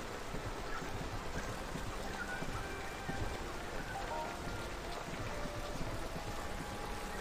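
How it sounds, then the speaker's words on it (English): Heavy rain in the game Kunseed pours steadily, a loud unbroken hiss of countless drops hitting surfaces with no break or change throughout. "Ooh, that's some heavy rain."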